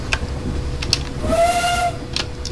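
A steam locomotive whistle in a train video game, on a light railway, sounds once in a steady, breathy tone amid mechanical clanks and hiss, fairly close.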